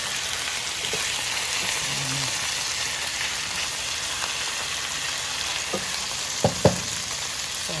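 Chicken frying in a pan with a dense, steady sizzle and crackle, a few utensil knocks as pieces are flipped, close and continuous without talk.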